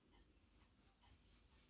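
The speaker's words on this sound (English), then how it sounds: "It doesn't last very long for the beep on this one." A Timex Marathon digital watch gives five quick, shrill beeps in an even rhythm, close and clear over a quiet background.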